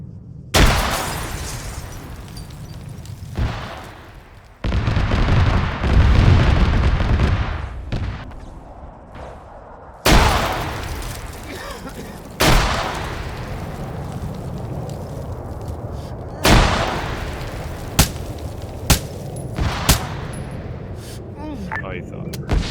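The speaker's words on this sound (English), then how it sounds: "Have a gun run, same location." Aircraft gun run with guns and missiles in a flight video game: heavy sustained firing and booming blasts in several loud bursts, with sharp impacts between them and radio chatter mixed in.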